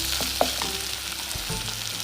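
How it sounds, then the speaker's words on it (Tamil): Potato chunks sizzle in a pan over softened onion and tomato for a Tamil potato masala, with a soft steady fry and a few scraping stirs of a spoon, close by and without speech. "இந்த கிழங்கு போட்டுடலாம். போட்டு நல்லா பெரட்டி விடுங்க."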